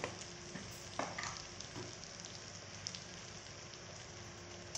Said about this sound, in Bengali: মশলাটাকে ভালো করে এখন কষিয়ে নিতে হবে। মশলা থেকে তেল ছাড়ছে।